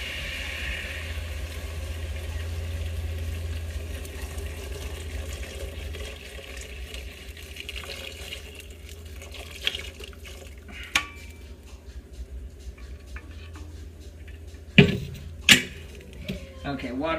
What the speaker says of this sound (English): So now we're going to add the water to